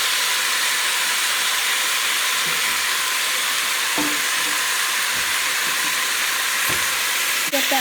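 Beef chunks sear in a hot pan for a beef green chile, giving a steady broadband hiss and sizzle throughout with a few faint clinks, loud and close, with no talking.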